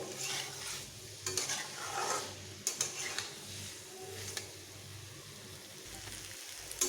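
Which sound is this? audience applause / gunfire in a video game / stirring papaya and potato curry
stirring papaya and potato curry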